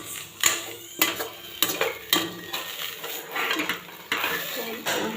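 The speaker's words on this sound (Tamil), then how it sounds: "சிம்மில் வச்சு நல்லா ட்ரை பண்ணிக்கோங்க தேங்காயை." Spoon scraping and clinking against a pan while grated coconut is stirred and dry-roasted, a series of sharp metallic knocks about once a second over a soft dry rustle, close and with no voices.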